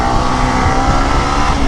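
A Yamaha MT15 or FZ250 motorcycle engine revs hard and steadily under load, a loud, continuous close-up roar with no voices.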